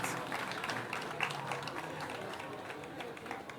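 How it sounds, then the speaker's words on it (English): An audience at an Accra Technical University graduation congregation applauds a graduating student with a steady patter of clapping that runs throughout, and some voices come through underneath. "Let's clap for her"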